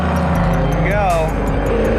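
A street-legal stock car drifts with oversteer on a track beside a wall, its engine roaring loud and close as the revs sweep up and back down over about two seconds.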